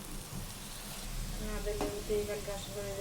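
Spices and green chilli being stirred as they fry in a pan, a soft crackling sizzle with a scrape of the spoon partway through, close and fairly quiet.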